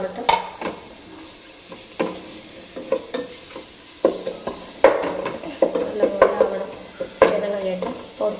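Prawn biryani masala paste with ginger-garlic paste being stirred in a hot pan, giving a close, crackling sizzle with repeated scraping and knocking of the spoon against the pan.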